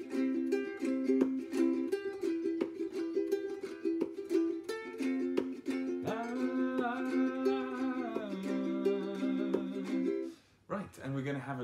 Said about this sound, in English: The way that he does it sounds like this.